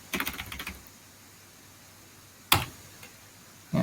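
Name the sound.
typing on computer keyboard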